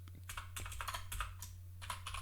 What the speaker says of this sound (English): struggling with the typing today